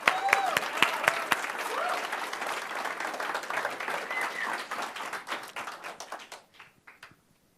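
Audience applause welcoming startup founders at an energy accelerator demo night: a room full of steady clapping with a few louder individual claps, tapering off and dying out near the end.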